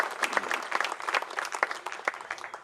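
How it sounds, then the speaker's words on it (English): Crowd claps at an outdoor Vietnam Army monument unveiling, individual hand claps distinct and uneven, moderately close and fairly light in volume. "A round of applause for Michael Lynd and all he's done to perpetuate the memory of the Grunt."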